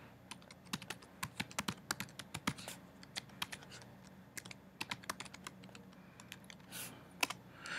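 Email address being typed on a computer keyboard, quick irregular clusters of close, crisp key clicks with short pauses, alone in a quiet room.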